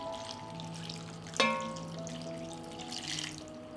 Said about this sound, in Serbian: I kupus ću preliti sa 500 ml vruće vode.